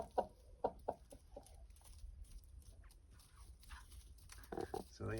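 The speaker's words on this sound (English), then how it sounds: "We have little chicks ready to greet winter." Little chicks cheeping on a farm as winter approaches, a few short high peeps in quick bursts near the start and again at the end, over a low steady background rumble.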